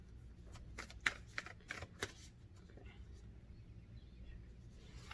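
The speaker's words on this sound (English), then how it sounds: "I don't know if my hands are big enough to shuffle this deck." A long oracle card deck is shuffled by hand, producing a quick burst of soft, close card riffles and taps that trail off into quiet room noise.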